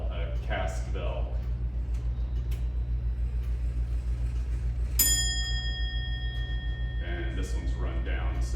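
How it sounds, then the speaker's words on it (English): A cast bell on an antique English two-weight grandfather clock rings once with a clear, ringing tone that fades slowly, set against a steady low hum with people talking before and after. "This one strikes just the hour, not the half hour, and it does it on a bell, a cast bell."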